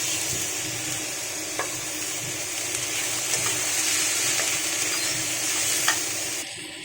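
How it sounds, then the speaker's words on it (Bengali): Steady sizzling of food in hot oil with scraping and stirring clicks from a utensil, continuous and fairly close, no voices. "এখানে তেলের সাথে আমি সবজিটাকে একটুখানি নাড়াচাড়া করে নিয়েছি"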